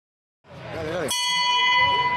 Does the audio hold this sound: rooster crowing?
no